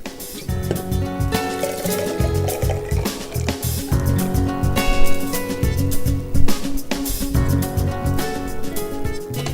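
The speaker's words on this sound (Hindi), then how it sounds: "आइस डालने के बाद हम इसमें ये मुरक्कब डाल देते हैं जो कि हमने अभी पकाया था गैस पर।" Cooked ginger-lemon syrup concentrate, just taken off the gas, is poured over ice for ginger lemonade, with a steady liquid splashing and trickling close by under loud continuous background music.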